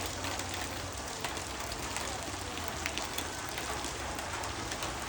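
Heavy rain falls in a dense, steady hiss with scattered drop patter on surfaces, constant and moderately close, with no talk.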